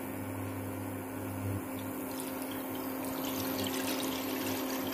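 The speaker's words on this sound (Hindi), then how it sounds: "दो गिलास करीब पानी डाल लिया हमने इसमें।" Water is poured into a kadhai, about two glasses' worth, making a steady, soft rushing trickle that continues throughout without talk.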